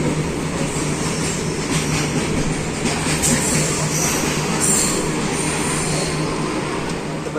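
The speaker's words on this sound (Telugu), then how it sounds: "రైట్ ట్రైన్ అయితే వస్తుంది." A passenger train leaves Eluru station at night with a constant, loud rolling rumble and steady wheel noise. A faint high squeal rises now and then, and there is no talk over it.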